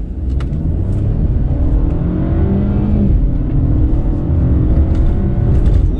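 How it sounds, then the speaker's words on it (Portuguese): The 1.6-litre engine of a Mercedes C180 revs hard from close range, a loud continuous rumbling drone that climbs in pitch across several seconds with no talking over it. "vamos, sente o ronco, vamos lá"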